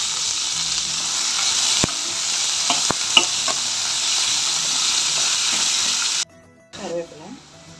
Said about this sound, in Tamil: வானிலையில் ஆயில் விட்டுட்டு கடுகு விட்டு பருப்பு கடலைப்பருப்பு தேங்காய் போட்டு இறக்கிடுவோம்